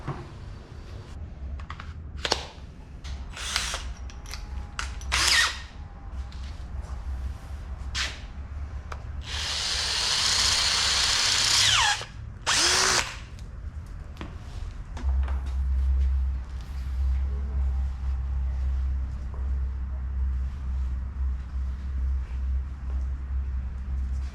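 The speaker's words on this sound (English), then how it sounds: "drill a hole through the cap to fit this little pipe" Short bursts of a power drill whir and grind in close while boring a hole through a cap during a Volkswagen Beetle restoration, separated by pauses, with one longer sustained drilling run and faint handling noises.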